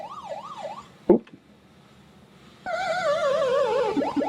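The Pac-Man arcade game siren warbles up and down in a looping tone, pauses after a short blip, then returns louder with a faster wobbling pitch.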